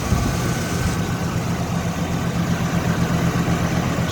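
A 1977 Chrysler Cordoba with automatic transmission idles smoothly, a steady low rumble with an even, continuous hum and no revving, heard close up without any talking.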